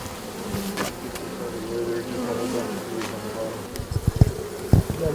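Honeybees hum steadily around an open hive in Davis, California, a close, continuous buzz with louder passes and a few sharp knocks near the end, faint voices in the background.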